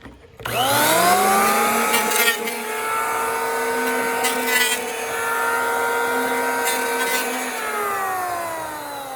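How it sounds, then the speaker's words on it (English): A power planer spins up and makes a pass over wood, a loud close whine with a steady cutting roar and a few brief surges, with no talk over it. "when I squeeze the trigger and make a pass, you'll be able to see exactly how much of a difference the power planer does"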